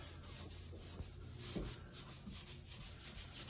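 Rubbing at overspray on a decal on a 1983 Ford Ranger truck gives a steady, close, low scuffing rasp. Soft friction continues throughout, with a few slightly louder strokes.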